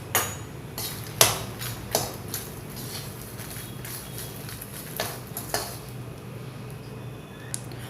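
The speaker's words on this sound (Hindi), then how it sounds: "अब हम इसमें अपने मखाने फ्राई कर लेंगे।" Makhana (fox nuts) being fried in ghee in a pan, with a low steady sizzle under scattered metallic clinks and scrapes from stirring with a utensil; no talking.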